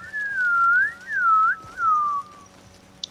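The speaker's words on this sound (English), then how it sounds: "Why are you whistling?" Someone whistles a wavering tune close by in three short phrases that rise and fall, ending with a brief click.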